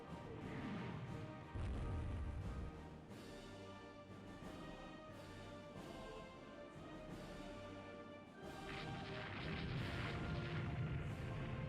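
Heavy 16-inch naval guns fire in a Rule the Waves 2 battle, giving repeated deep booms and crashes spread across the stretch. They play over a continuous musical score.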